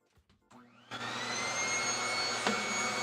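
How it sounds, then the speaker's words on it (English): A Dyson stick vacuum starts after a few faint knocks, spinning up into a steady, loud whine and hum with a rising pitch that holds continuously to the end, up close and alone without talk. "so what I'm gonna do, I'm gonna vacuum a lot of this, and then we're gonna go further in"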